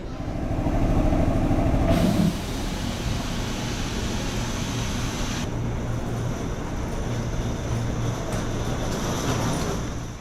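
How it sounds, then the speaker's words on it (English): A Fujikyu Railway commuter train at a station, heard as a continuous mechanical rumble and hum that shifts in character after a couple of seconds and then holds steady at moderate loudness throughout. "We say goodbye to our Fujikyu commuter train and transfer over to the JR East"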